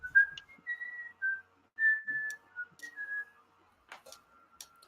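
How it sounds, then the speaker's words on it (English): A low, melodic whistled tune sounds in short rising and falling phrases, fairly clear against quiet surroundings, with a few soft clicks and knocks in between. "this low whistle coming from at the bottom of the street."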